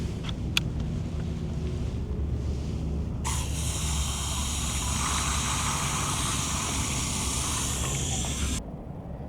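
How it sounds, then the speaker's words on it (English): Water rushing steadily into a garden sprayer container for several seconds, a loud, continuous hiss that stops abruptly near the end over a low background rumble. "And now we'll fill it up with water."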